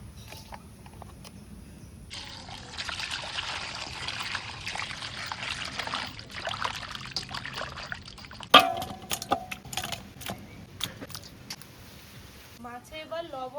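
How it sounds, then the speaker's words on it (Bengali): Water pours and splashes over freshly cut boal fish being washed, a steady trickling stream, then clattering handling sounds and splashes nearby, with a voice speaking briefly. "মাছ কোটা হয়ে গেছে, এবার ধুয়ে দেবো।"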